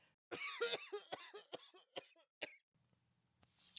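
A burst of repeated coughs, several harsh hacks in quick succession, close and loud, then a quiet background hum.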